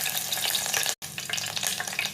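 Curry leaves crackling in hot oil with ghee for a tomato dal tempering: a loud, continuous spitting sizzle that cuts out for a split second, then resumes just as dense.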